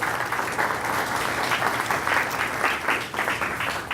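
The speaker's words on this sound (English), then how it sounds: "Give Bruce a round of applause" An audience at a live show applauds a volunteer called up on stage, producing dense, even clapping throughout that eases slightly toward the end.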